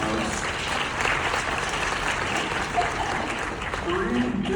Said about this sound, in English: So let's give Jachelle a round of applause there, folks.